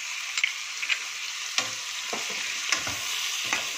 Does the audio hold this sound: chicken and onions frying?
yes